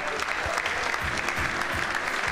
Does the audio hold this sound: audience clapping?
yes